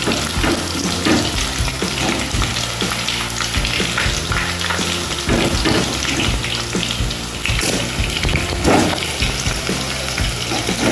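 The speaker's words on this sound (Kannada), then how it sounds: "ನೋಡ್ಬೋದು ಚೆನ್ನಾಗಿ ಇದು ಫ್ರೈ ಆಗ್ತಾ ಉಂಟು." Soya chunks frying in hot oil for restaurant-style crispy soya chilli manchurian, a loud, dense, continuous sizzle and bubbling with occasional stirring, close up and without talking.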